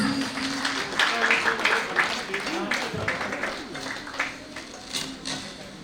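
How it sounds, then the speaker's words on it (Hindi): Scattered clapping from guests at a New Year celebration welcome, moderately loud and uneven, with people talking and murmuring over it throughout. "आप सभी से रिक्वेस्ट है, तालियों में कंजूसी ना करें प्लीज"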